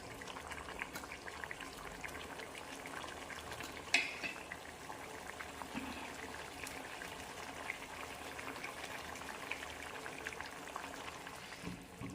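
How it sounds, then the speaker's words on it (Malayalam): A curry of toor dal and small onions boils in a pot, giving a steady, soft bubbling and simmering hiss throughout, with one brief louder clink or pop near the start and no talking. "ഇതൊന്ന് തിളക്കട്ടെ തിളച്ചതിൻ്റെ എണ്ണയൊക്കെ ഒന്ന് തെളിയട്ടെ"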